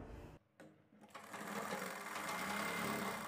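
A sewing machine stitches a western-style blouse: after a brief stop-and-start, the motor and needle settle into a fast, steady whirring chatter, close and continuous.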